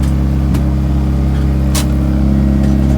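Turbocharged Honda car engine idling steadily, a close, constant low hum with strong harmonic bands, briefly punctuated by a couple of faint clicks.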